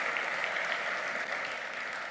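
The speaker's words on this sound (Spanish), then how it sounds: "Así que un aplauso para Gabriel." A seated audience at an agricultural conference gives a brief burst of applause for an incoming speaker, an even patter of many hands that holds steady and begins to fade near the end.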